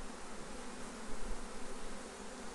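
Dense, steady buzzing of many honeybees inside a hive, a continuous close hum with slight swells in loudness and no voices.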